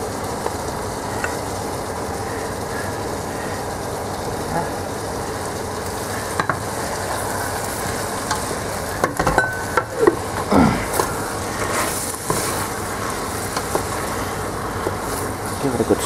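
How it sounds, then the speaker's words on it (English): A spoon stirs Christmas goulash pot roast with onions in a pot, making a continuous wet sizzle and scraping with occasional clunks against the pot, under intermittent talking. "Give it a good stir"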